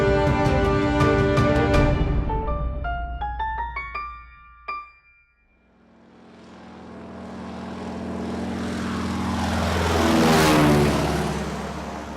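A propeller plane drones in a radio drama effect, following a musical sting, its engine swelling from faint to a loud close pass and fading slightly at the end.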